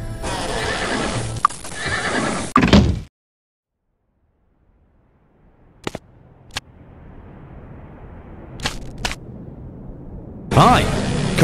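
In the Might & Magic VI role-playing game, a burst of horse neighing and hoofbeats plays, then cuts to silence before scattered clicks and rising game noise return, ending with another loud burst of horse sounds.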